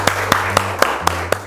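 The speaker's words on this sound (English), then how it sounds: "Very good. Claps." Six sharp claps spaced evenly about a quarter second apart, sounding close and fairly loud in a classroom, with a steady low hum beneath and no talking.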